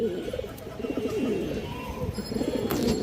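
A female Jaggola pigeon coos close by in a run of soft, low, repeated pulsing calls, with faint background noise and no clear speech.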